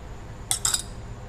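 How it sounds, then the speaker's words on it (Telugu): A metal pan is set down on a stove, giving two quick, close clinks against a quiet background. "స్టవ్ మీద ప్యాన్ పెట్టి"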